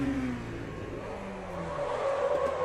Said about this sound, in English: Bit of an oversteer moment